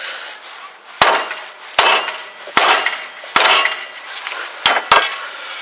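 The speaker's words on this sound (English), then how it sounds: "get a big hammer and just kind of hit this a couple times, and this should break it loose" Six sharp metallic hammer blows strike a Ford Taurus lower ball joint at uneven intervals, loud and close, each followed by a short clanging ring.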